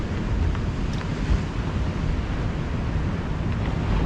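Steady sea surf washing ashore at a seaside beach, with wind buffeting the microphone in a continuous broadband roar that holds at an even level throughout, no voices present.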